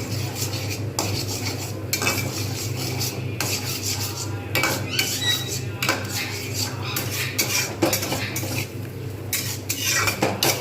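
Metal utensil scrapes and clatters steadily in a pan as ingredients for mixed fried rice are stir-fried, with continuous dense scraping and clinking close by, no talking.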